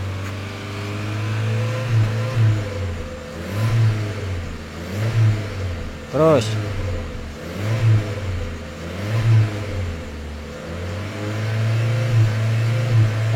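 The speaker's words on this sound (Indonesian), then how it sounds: "Coba digas lagi." A Honda Brio's engine revs repeatedly during a tune-up in a workshop, rising and falling in regular bursts about every second or two, heard close and loud, with a brief whine and a single spoken word in the middle.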